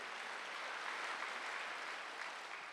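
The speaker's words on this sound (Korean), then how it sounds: "믿으시면 박수" Church congregation at a Wednesday worship service claps together in a soft, even patter of applause that holds steady throughout, heard at a distance without speech.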